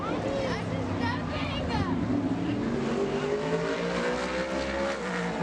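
A Chevy modified race car roars through a qualifying lap at Bowman Gray Stadium, its engine note sweeping up and down under a track announcer's steady commentary.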